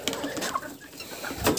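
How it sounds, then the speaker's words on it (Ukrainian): Young chicks and guinea fowl keets peep in quick, overlapping high chirps from close by, a busy little chorus of calls with light background noise. "Щось тут курчатка кричать, напевне хочуть їсти."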